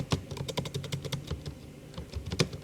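Rapid typing on a computer keyboard, a close, quiet run of crisp irregular key clicks with no voices.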